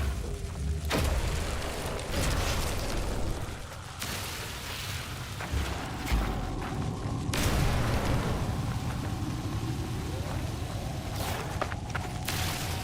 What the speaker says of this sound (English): Oh, that's the damn paralysis mortar.